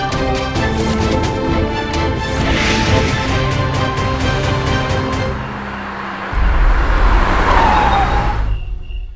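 A car engine idles and hums steadily, loud and close, with a low rumble that deepens and grows stronger near the end, mixed with background music.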